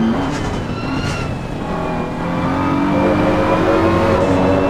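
BMW GT3 race car at Imola in a racing video game, its engine note climbing through rising revs as it sweeps past, loud and continuous with other engines droning underneath.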